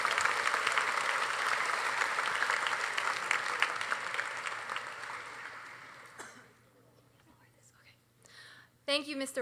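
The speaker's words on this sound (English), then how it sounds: "Can we give our seniors another big round of applause?" A class night ceremony audience claps for graduating seniors, sustained applause with scattered cheers for about six seconds that tapers off, after which a voice begins speaking.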